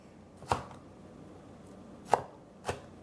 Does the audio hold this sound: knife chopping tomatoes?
yes